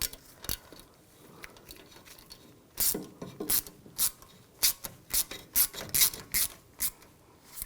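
Screw being turned and tightened into a threaded hole on the front wheel hub of a 2007-2013 BMW X5, a close, dry ratcheting click that speeds into a run of sharp, evenly spaced clicks toward the end, with no talking.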